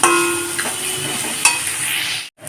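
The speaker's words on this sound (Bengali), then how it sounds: "গ্যাসটাকে লো ফ্লেমে রেখেই ভাজা ভাজা করে নেব" Bitter gourd, potato and onion frying in a pan over a low gas flame, a steady close sizzle with a few soft stirring clinks, cutting out briefly near the end.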